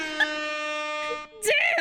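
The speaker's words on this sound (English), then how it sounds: "Oh, that was the wrong honk." An air horn honk sound effect plays during an Ace Attorney game livestream, a sustained, harmonically rich blast that holds steady for over a second before cutting off. An excited voice follows immediately afterward.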